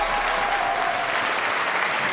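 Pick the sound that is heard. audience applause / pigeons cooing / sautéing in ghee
audience applause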